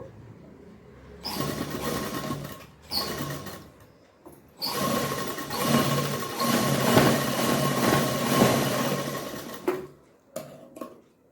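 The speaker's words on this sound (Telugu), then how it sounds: "పాదం అంతా గ్యాప్ ఇచ్చి మళ్ళీ ఇంకొక స్టిచ్ వేసుకుంటున్నాను" A sewing machine stitches a blouse in two long bursts of fast mechanical whirring, with short pauses and a few brief taps between, heard close up.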